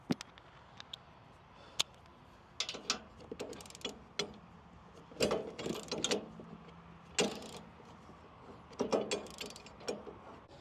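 Ratchet wrench tightening bull bar mounting bolts on a Toyota N80 Hilux, heard as bursts of quick mechanical clicks and clunks with short pauses, close by and fairly quiet, no talking.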